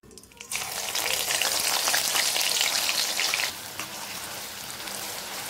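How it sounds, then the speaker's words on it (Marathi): Gatte, gram flour dumplings, are lowered into hot oil in a kadhai and fry with a loud, dense, continuous crackling sizzle that rises suddenly and eases slightly after a few seconds. "आता हे आपण सगळे तळून घेऊया। त्यासाठी मी एका कढईत तेल गरम करायला ठेवले।"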